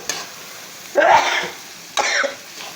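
Chili powder and spices being stirred into chicken and onions for a chicken roast in a pan, heard as two loud close scraping stirs over a faint sizzle, separated by brief quiet gaps.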